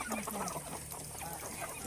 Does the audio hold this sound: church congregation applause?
no